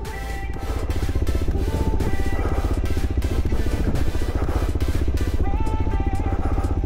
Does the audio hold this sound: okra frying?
no